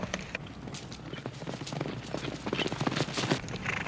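Horses' hooves clip-clopping on the ground in a Western television scene, a busy irregular stream of close, loud hoof knocks from several animals moving together, growing denser toward the end.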